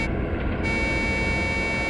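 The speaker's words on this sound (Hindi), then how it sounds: "हॉर्न भी बजा रहा है।" A truck horn blares in a forest, holding one long steady tone for about two seconds.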